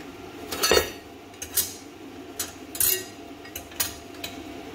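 Metal clinks as a ground clamp is attached to a quarter-inch powder-coated steel plate for a budget pilot arc plasma cutter, a series of short sharp clanks and taps spaced irregularly, close and fairly faint.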